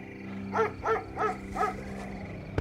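An old dog gives four evenly spaced barks at moderate distance, each short and gruff, followed by a sharp click.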